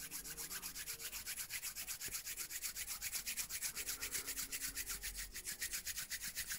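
Two hands rubbed vigorously against each other give a fast, steady, rhythmic swishing friction close to the listener, continuous throughout with no talking.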